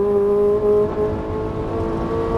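A Ferrari 458 Italia engine runs at full throttle on the Auto Club Speedway track in Fontana, a loud, steady high-pitched roar with strong harmonics that holds a sustained drone throughout.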